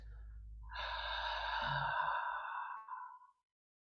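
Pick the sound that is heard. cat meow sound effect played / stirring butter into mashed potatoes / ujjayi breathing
ujjayi breathing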